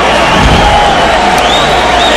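Crowd at a boxing match between Bernard Hopkins and Howard Eastman cheers loudly and steadily, a dense roar of many voices with scattered shouts and whoops.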